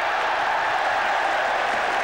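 A capacity cricket crowd at Old Trafford during the 1981 Ashes series applauds a shot, making a dense, steady wash of clapping and crowd noise throughout this brief moment, with no voices standing out.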